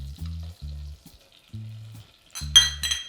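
Butter, brown sugar and cinnamon stirred in a pan as the butter melts, with soft intermittent sizzling and scraping strokes, then a brief clink of a utensil against the pan near the end.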